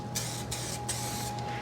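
An aerosol spray can, used on an older vehicle, releases several loud hissing bursts of roughly a third of a second each, separated by short pauses, over a faint steady hum.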